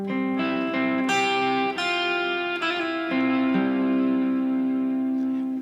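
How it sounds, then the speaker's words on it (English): Clean electric guitar on the bridge pickup through a Strymon Big Sky reverb on the cloud setting and a Strymon Timeline delay, a few sustained chords and notes blooming into a long, lush wash, played alone with no talk. "A little bit of reverb from the Strymon Big Sky, the cloud setting, a little bit of delay from the Strymon timeline."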